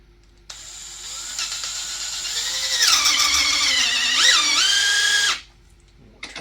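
A power drill bores through a powder drop relocation rod bushing clamped in a vise for a Frankford Arsenal X-10, whining steadily for about five seconds with rising pitch shifts as the bit bites, then cutting off abruptly.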